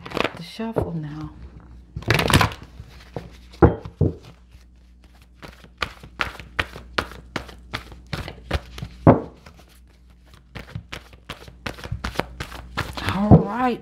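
Tarot cards shuffled by hand in a run of crisp riffling snaps and soft thumps, close and clear, with a voice speaking briefly at the start and end.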